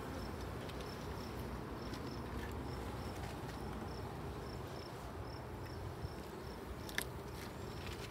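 Honeybees hum steadily throughout during a hive inspection, a dense, continuous buzz close by with faint higher insect chirps layered in, no voices.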